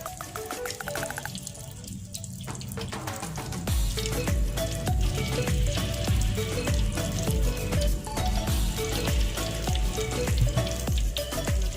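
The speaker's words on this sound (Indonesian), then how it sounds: "Kita akan mulai menggoreng tempenya." Tempeh frying in very hot oil: a quieter start, then dense, continuous sizzling and popping fills the rest, close up with no talking.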